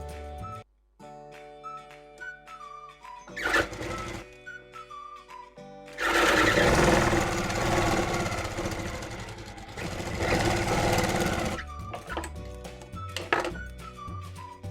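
An electric sewing machine runs a steady stitching burst for a few seconds while hooking a strip onto blouse fabric, set against background music with melodic tones before and after.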